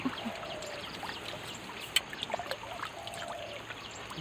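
Water spilling over a weir on a river in Thailand, a steady rushing flow with faint trickling and a few light splashes, heard from nearby with no talking.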